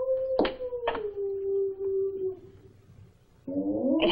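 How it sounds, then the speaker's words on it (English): A stray dog howls in woods, two sharp onsets giving way to one long sliding wail that fades, followed by a louder, layered burst of howling near the end. "Stray dog."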